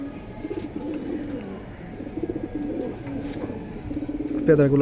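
Caged pigeons for sale coo close by in repeated soft, throaty rolling calls, with a faint voice in the background.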